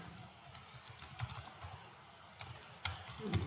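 Typing on a computer keyboard while entering slide text in PowerPoint, a quiet run of light, irregular key clicks with short pauses, close and soft over a low background hum.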